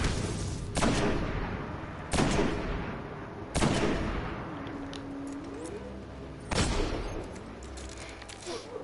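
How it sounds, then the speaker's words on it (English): Video game gunfire from Destiny: four separate heavy shots or blasts ring out at irregular intervals, each a sharp loud crack followed by a short decaying tail, with no talking. "now let's just shoot him to death"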